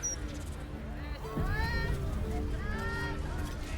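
A cat meows a few times in the Baldur's Gate 3 video game, soft rising calls set against quiet ambient game sound.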